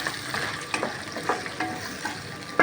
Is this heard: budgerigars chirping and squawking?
no